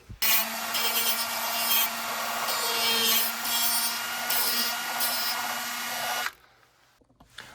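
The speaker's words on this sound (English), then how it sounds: "I'm just using a cordless Dremel with the flex cable attachment." A cordless Dremel with a flex cable attachment and a sanding wheel grinds steadily for about six seconds, a high continuous whine with a low hum, then cuts off into near silence.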